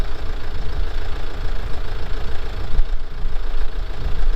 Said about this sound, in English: No, I have to leave the engine on to heat these up.